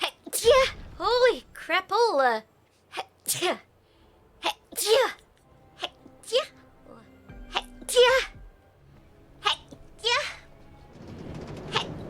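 A person sneezes amid a stream of lively, excited chatter, with several short bursty vocal outbursts spread across the stretch and a rougher, noisier burst near the end.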